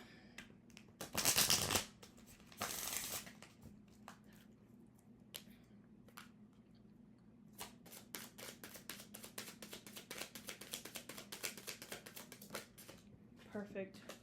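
Tarot cards being shuffled by hand: two loud riffling bursts followed by a long run of quick, crisp card taps and flicks, close up, with occasional quiet speech.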